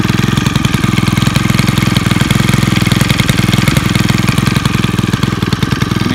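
Stihl FS 91R weed eater with a new engine running at a steady idle, a loud, close, continuous putter with an even rapid pulse throughout.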